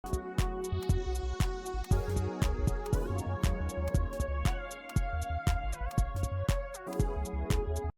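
An early draft of a song, a minimal electronic track with sparse, punchy drum hits in a steady groove under sustained synth tones, loud and continuous with no voices.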